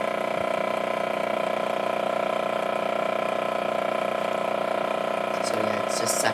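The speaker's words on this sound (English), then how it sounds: "it's just sucking out all the air here" Vacuum sealer drawing air out of a plastic bag holding a ribeye steak, a constant loud mechanical hum and whine held steadily throughout, with faint rustling near the end.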